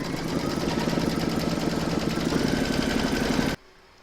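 An embroidery machine satin stitches the edge of a takeaway coffee cup coaster design with a dense, steady, rapid mechanical chatter, close and constant for several seconds before stopping abruptly.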